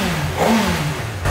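A new Honda CB1000 motorcycle engine revs lightly on the throttle, a low steady idle rumble with a brief gentle rise, close by and alone with no talk.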